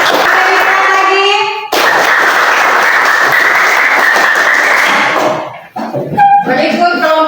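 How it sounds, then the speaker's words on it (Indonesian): Classroom applause for a student group that has just finished its presentation: a dense burst of many hands clapping at once, loud and close, lasting several seconds before fading out as a voice takes over. "Ya, berikan aplaus dulu."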